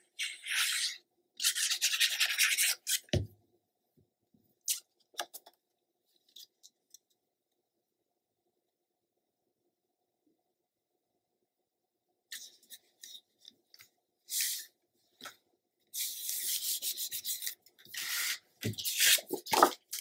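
Scissors snip and slide through paper, trimming a piece to size for a mini album page, quiet close-up crisp cutting strokes in bursts with a long silent pause in the middle.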